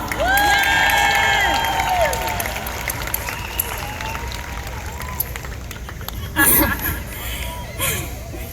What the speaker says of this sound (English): Please give my mom a round of applause